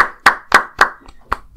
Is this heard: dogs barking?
no